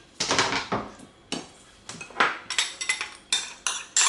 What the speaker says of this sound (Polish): Dołożymy musztardę i sałatkę należy dokładnie pomieszać